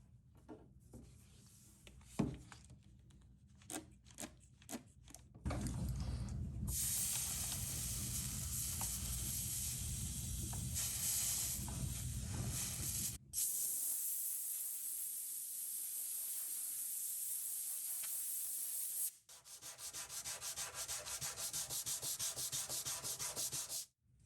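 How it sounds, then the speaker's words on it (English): Steam hisses against a dent in wooden furniture work. After a few scattered taps, a loud steady hiss runs for long stretches, broken by brief pauses, close and with no talking. "I wanted to steam the dent out"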